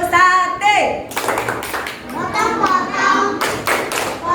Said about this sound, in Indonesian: Sekarang anak ustazah ingin kita tepuk dulu ya, tepuk sate.